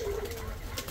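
A soft, low coo from a desi pigeon drifts in briefly, quiet and somewhat distant against faint background noise.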